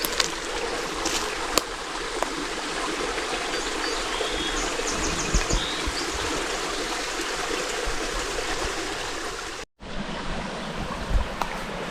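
A stream's cascading water rushes steadily at Toe Punch Pond, a loud, continuous wash that drops out for a brief moment near the end before resuming.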